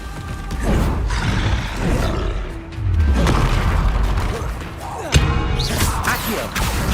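In Hogwarts Legacy, the Confringo blasting spell fires off in a loud fiery burst with booming thuds and crackling debris, a dense rumbling blast that swells, dips briefly, then erupts again with a sharp crack near the end.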